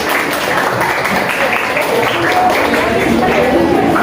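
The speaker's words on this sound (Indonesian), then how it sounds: "Kita beri tepuk tangan dulu" In a teacher-training session room, a group gives applause, a dense continuous patter of clapping mixed with crowd chatter and voices throughout.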